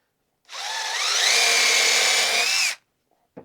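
A power drill drives a screw fitted with a washer into wood, one continuous whirring burst of about two seconds, rising slightly in pitch as it runs, then stopping abruptly.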